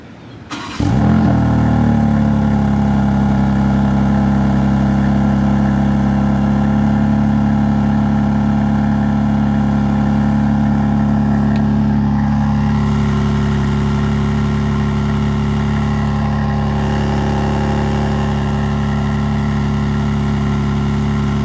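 A BMW G82 M4 fitted with a new exhaust fires up with a sharp burst, then settles into a steady, loud, deep idle that drones on evenly and close by with no talking.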